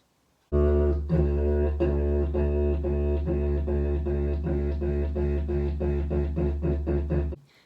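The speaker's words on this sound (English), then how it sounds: "if you want to make little stops in the sound, and we can make it with a T" Didgeridoo drone played with tongued T stops, a steady low buzzing tone broken into a quick run of short rhythmic pulses that speed up toward the end, close and solo with no talking.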